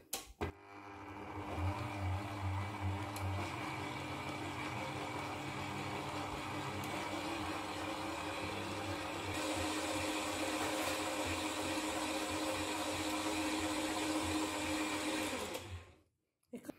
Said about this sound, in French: Et on va commencer à fouetter